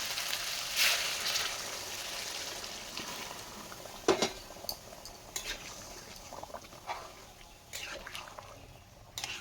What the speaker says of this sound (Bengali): ফুটিয়ে রাখা জল দিয়ে দিলাম